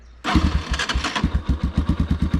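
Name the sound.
motorcycle engine starting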